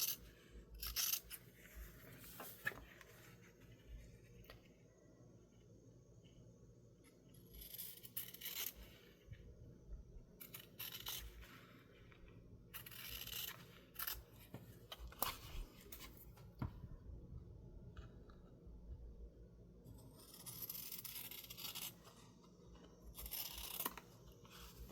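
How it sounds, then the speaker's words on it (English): Quiet, intermittent snipping and scraping as a paper edge is trimmed for a crayon box junk journal, in short separate bursts with faint rustling between them. "Just going to go along the edge and trim this off."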